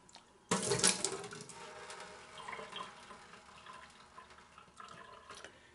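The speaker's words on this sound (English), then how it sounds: "So I'm going to dump the vinegar that's in here" Vinegar pours out of a container into a sink in a kitchen where cabbage is being prepared for sauerkraut, beginning with a sudden splashing gush that eases into a steady, softer trickle and a few final splashes.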